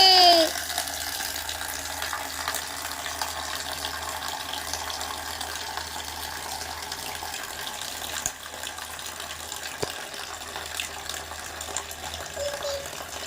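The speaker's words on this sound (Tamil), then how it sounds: "சீக்கிரமாக குளவை திறந்து விடுங்க தண்ணி வரட்டும்" Water runs steadily from the tap of a toy bathtub in a miniature doll play set, a continuous close hiss with a faint mechanical whir and a few small clicks, and no speech.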